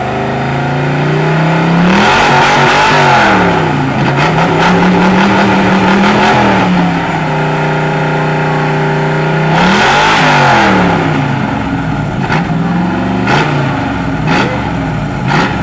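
An American car at a car meeting, its exhaust running without valves, revs loudly several times: three long rising and falling blips over a rumbling idle, close and powerful.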